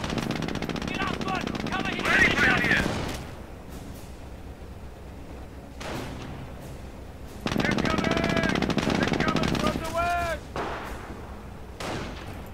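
Rapid machine-gun bursts and sharper rifle cracks from a Company of Heroes battle, loud volleys separated by quieter gaps with game voice lines mixed in.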